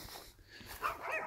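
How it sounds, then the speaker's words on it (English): Dogs bark excitedly at a house where a custom Yamaha R1 streetfighter sports bike is kept, with repeated barks and yips that grow louder near the end of the short stretch. "As you can hear, my vicious dogs are going off their heads."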